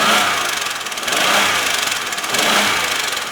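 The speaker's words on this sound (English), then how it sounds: "I hope you notice it does sound like a very slight valve tap." A 2003 Chevy Impala sedan's 3.4 liter V6 idles steadily up close under the open hood, a broad, even engine rumble with a faint rapid ticking like a slight valve tap.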